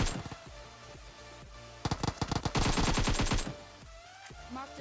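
Gunfire in the mobile battle royale game PUBG Mobile: scattered single shots at first, then a dense rapid automatic burst in the middle, loud and close, fading to quieter game ambience.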